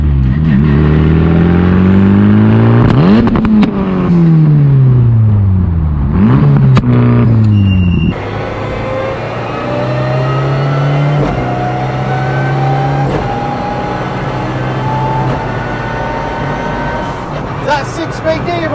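Ford Escort Maxi rally car engine with sequential gearbox and mild anti-lag, revving hard in repeated sweeping bursts, then holding a loud sustained high-rev drone, close and dominant.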